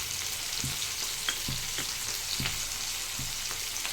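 Tomato and onion masala frying in oil for a country chicken sambar, with a steady close sizzle throughout and periodic stirring scrapes roughly every half second, no voices.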